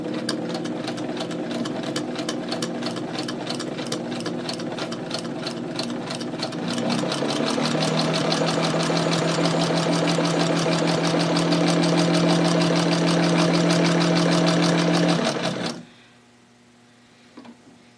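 A free secondhand sewing machine stitches steadily for about fifteen seconds, a rapid even whirring with a pitch shift partway through, then stops abruptly, leaving quiet room hiss.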